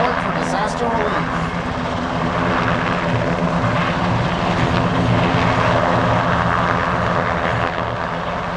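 An RCAF CH-148 Cyclone military helicopter hovers during a hoist at the Cold Lake air show, its loud, steady rotor and engine roar filling the whole stretch without a break.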